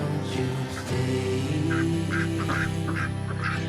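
Several ducks quack and honk nearby in a run of loud, overlapping calls near livestock, steady over about four seconds with no talking.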